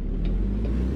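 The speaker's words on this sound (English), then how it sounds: "wait for this car to go by." A car drives past in American Truck Simulator, a brief low engine whoosh heard over the steady rumble of an idling Kenworth W900 with a Cummins ISX.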